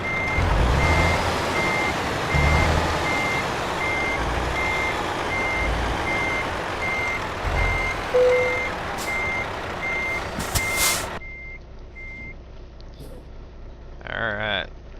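A truck in Euro Truck Simulator 2 reverses with a steady, evenly spaced electronic beep over its running engine, loud and near, before the beeping stops and a brief air-brake hiss follows.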